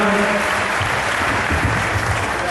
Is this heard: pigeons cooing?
no